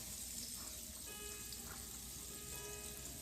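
Onions frying in butter in a pot on a Jamaican-style home stove, a steady soft sizzle with light crackle, quiet and continuous with no talking.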